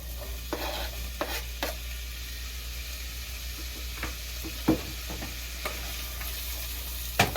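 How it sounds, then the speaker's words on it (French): Onions fry in olive oil while a wooden spoon stirs them, a constant soft sizzle with occasional scraping knocks against the pan, close and fairly quiet, with no voices. "Je vais prendre une cuillère en bois et je vais remuer."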